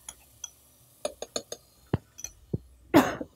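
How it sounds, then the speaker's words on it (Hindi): A person coughs several times in short, sharp bursts while cooking kebab gravy with chili garlic sauce and steam rising, the coughs scattered and close, ending in a louder harsher burst. "बहुत भाप आ रही है तो मुझे खांसी आ रही है"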